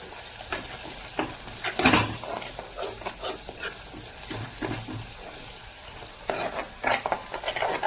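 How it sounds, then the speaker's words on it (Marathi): Red chili, garam masala, coriander powder and turmeric roasting in oil for rajma, with uneven bursts of frying crackle and scraping of a spoon against the pan, close and moderately loud. "लाल तिखट, गरम मसाला, धने पावडर आणि हळद हे सर्व आपण तेलामध्ये भाजून घेऊया।"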